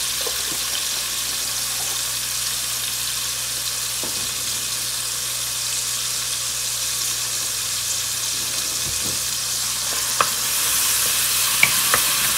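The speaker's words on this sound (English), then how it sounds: "I'm going to stir this around." Minced garlic and Haitian epis sizzle and fry steadily in a pot while being stirred, with a constant loud hiss and occasional faint clinks of a spoon.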